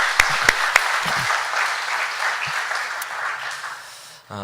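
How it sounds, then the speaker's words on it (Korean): A church congregation at an afternoon worship service gives a round of steady applause, with a few sharp, close claps near the start, before the sound trails off and ends abruptly. "우리 다윗 목장을 위해서 우리 한번 박수 쳐주시기 바랍니다."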